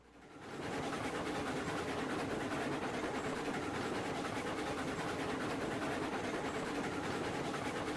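A train running in the Railroads Online video game makes a steady, continuous rumbling roar that fades in at the start and then holds at an even, moderate level with no talking.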